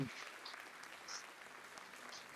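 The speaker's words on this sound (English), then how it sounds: "The applause in the background just now was for the table number 2 match, the other men's match." Faint applause from a neighbouring table's men's pool match at a Japan Open tournament, a soft, distant patter of clapping in the background with a few brief sharper sounds.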